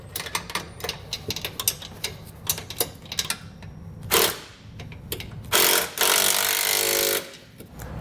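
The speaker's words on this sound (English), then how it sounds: "we'll just come back and snug them down using a socket and wrench." Base plate bolts on a 2016 Mazda are snugged down with a socket and ratchet wrench, giving quick rapid ratcheting clicks followed by a few longer bursts of metallic grinding and rattling, close up with no talking.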